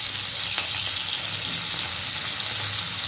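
Onion and capsicum sizzle gently in a pan over a low gas flame, giving a steady, even, moderately quiet frying hiss with no voices.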